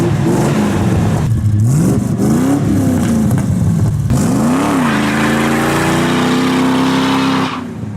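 A Ducati motorcycle engine revs loudly and close, rising and falling in pitch through several throttle blips and a sustained high rev before settling down near the end; no talking.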